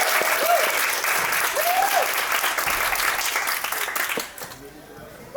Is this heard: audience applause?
yes